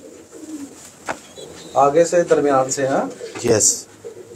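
A pigeon coos softly while a man holds it from the front, the low murmuring calls mixed under his close, loud speech.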